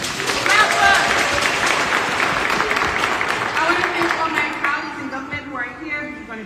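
Audience applause at a grand opening press conference for a recreation center in the 42nd Assembly District, a dense steady clapping that starts loud and slowly thins toward the end.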